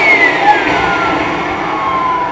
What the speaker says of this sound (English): Now you can hear the alarm